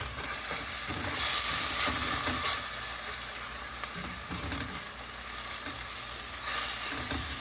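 Onion, garlic and panch phoron sizzle and crackle steadily in hot oil, a close, continuous fry with a few brief stirring bumps and no voices.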